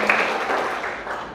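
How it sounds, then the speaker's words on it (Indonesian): Students applaud a classmate in a school civics lesson, a short burst of clapping that fades out within about a second. "berikan tepuk tangan buat Epi"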